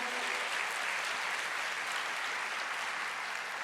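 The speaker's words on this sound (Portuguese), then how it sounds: "Vamos aplaudir ao Senhor." A church congregation applauds during a worship service, a dense, even wash of clapping heard at a moderate distance, sustained throughout without talk.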